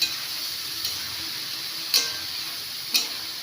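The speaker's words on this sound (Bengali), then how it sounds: "সেদ্ধ সবজিটা আমি ছেড়ে দিলাম। এটাও হালকা ফ্রাই করে নেব।" Boiled vegetables fry lightly in a pan for prawn fried rice, giving a steady, even sizzle throughout, with a few faint clicks of a spoon against the pan and no voices.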